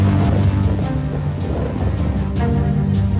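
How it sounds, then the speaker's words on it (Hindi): Cyclone Biparjoy lashes the Gujarat coast with loud roaring wind and heavy rain, a dense, continuous storm noise that stays strong and close throughout, with no voices. "भयंकर तूफान के चलते होटल के अंदर कुर्सी और मेज कागज की तरह उड़ते नजर आए।"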